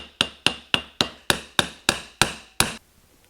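A new pulley is hammered onto a Trabant engine crankshaft during assembly, nine sharp metallic whacks in an even rhythm, close and loud, with no talk.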